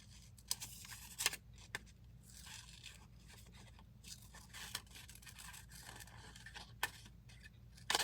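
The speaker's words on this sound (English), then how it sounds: "And my scissors right in front of me. If I just quickly trim around the trees a little bit." Scissors trim paper around cut-out tree shapes for a collage, giving quiet, scattered snips and faint scraping against a low steady background hum, with a few sharper cuts standing out.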